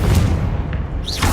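The Confringo spell in Hogwarts Legacy goes off as a single deep, booming blast, loud and close, followed by a fading rumble and a short whoosh.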